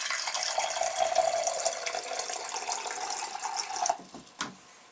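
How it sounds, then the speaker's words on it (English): Water poured into a beaker, a steady broadband splashing stream lasting about four seconds before it stops, followed by a couple of faint drips and a small splash. "So we'll get some water."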